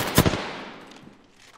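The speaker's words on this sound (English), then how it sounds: "Taking fire." A short, loud burst of automatic gunfire from a shooter video game, two or three rapid shots close together, then a fading echo and faint ambient game noise.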